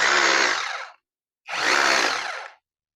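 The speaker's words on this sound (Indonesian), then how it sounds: "bagaimana performa dari bor bobok cordless ini ya, dari merek JLD" A JLD J26-48 cordless rotary hammer drill runs in two close, loud bursts of about a second each, separated by a short pause, with a harsh buzzing whine and no talking.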